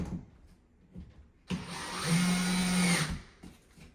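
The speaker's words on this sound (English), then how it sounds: "I have this on number 2 for drilling." A power drill on speed setting 2 whirs steadily for about a second and a half, its pitch rising slightly as it spins, with quiet handling noises before and after, while installing a corner shower frame.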